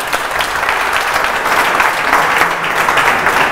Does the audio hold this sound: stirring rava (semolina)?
no